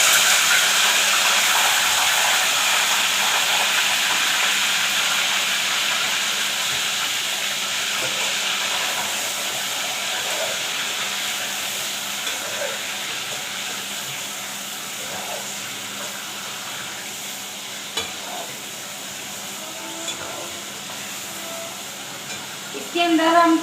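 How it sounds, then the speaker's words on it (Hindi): Beef goes into hot oil for a korma and sizzles, a bright steady hiss that fades slightly over time, with a few small clicks and pops near the end. "हमने चूल्हा जला लिया है, ऑयल को गर्म कर लिया है दोबारा से। अब हम डालेंगे इसके अंदर गोश्त।"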